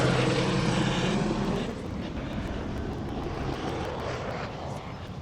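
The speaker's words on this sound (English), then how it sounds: "See over there, oh, police helicopter." Police helicopter passing over Santa Monica, Los Angeles, a steady rotor and engine drone that is loud at first and eases slightly as it moves off, with no talking.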